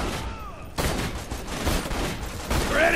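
Rapid gunfire from the Borderlands 2 video game fills the stretch as a dense, continuous burst of shots, loud and close, with no pause between volleys.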